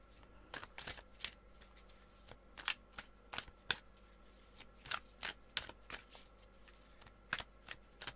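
Tarot cards are shuffled by hand in a series of quick riffling bursts and soft slaps, close and fairly quiet, with no voices.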